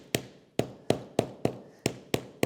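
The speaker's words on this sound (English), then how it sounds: "Now I'm just gonna start lightly tapping here on the back side." Hammer lightly tapping wet veg tan leather laid on a marble slab, eight sharp, evenly spaced knocks about a third of a second apart, close and distinct with no talking.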